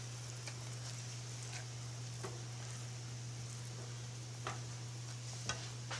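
A spoon stirring sauce for Lao chicken feet salad with lime juice, faint soft scraping and occasional light clinks against the bowl over a steady low hum.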